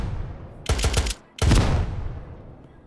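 Two bursts of automatic gunfire in the survival game Unturned, a short rapid volley followed by a brief pause and a second longer burst, loud and close.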